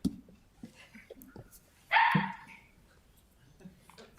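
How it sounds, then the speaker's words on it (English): A dog barks once, short and mid-loud, indoors during a city commission meeting, with faint voices and room noise around it. "We heard the dog weigh in."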